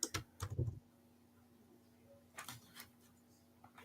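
Computer keyboard typing, a quick burst of clustered key clicks near the start, then a pause before a few sparser keystrokes toward the end, close and fairly quiet in a still room.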